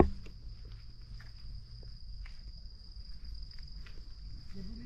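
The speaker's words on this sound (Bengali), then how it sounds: "যা ঝিঝি পোকার ডাক," Crickets chirp in the quiet Kendua forest, a continuous high-pitched trill holding steady throughout, with faint scattered rustles and low background rumble beneath, no speech.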